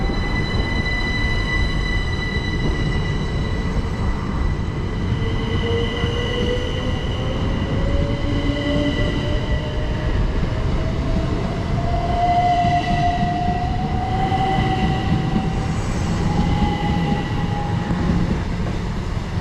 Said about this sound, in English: departing out now is the 1232 service to Dover Priory